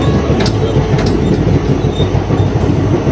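The 08440 Patna-Puri special express train running between Asansol and Puri, heard from on board as a loud, steady rumble of wheels and carriage noise with faint rhythmic clacking, close and continuous.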